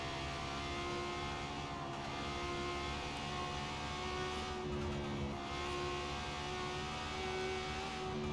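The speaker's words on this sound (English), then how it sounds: "especially with the turbo blow-off valves when you decelerate" A steady, fairly faint engine drone with a whirring turbo tone comes from an Italdesign Zerouno driven in the Forza Horizon 4 racing game, holding an even pitch throughout.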